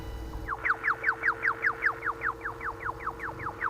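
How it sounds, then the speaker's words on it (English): A laser gun fires in the video game Signalis, producing a rapid, regular series of about fifteen chirping, bird-like zaps in a steady rhythm over a low electronic hum. "It's my laser gun. I mean, that's like bird noises."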